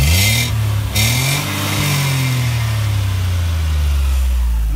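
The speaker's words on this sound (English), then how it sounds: "This is about the quietest engine I have ever sampled." A 2018 Textron Prowler Pro XT utility vehicle's very quiet engine gets a light rev from idle, a steady close low hum that swells gently and holds, with no talking.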